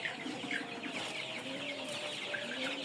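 Several CPF-3 tiger chickens clucking nearby, overlapping calls against a steady farmyard background.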